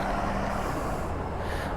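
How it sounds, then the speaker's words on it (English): A six-door pickup truck rolls past at dusk, its engine noise a steady broadband rumble with a low drone that holds at an even loudness throughout, heard from a motorcycle along the road. "That was a 6-door pickup truck."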